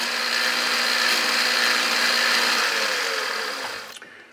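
A metal lathe turns a chamfer onto a steel part, giving a steady, loud machining whine with a bright, even high tone that holds for most of the clip and then fades abruptly near the end as the cut stops.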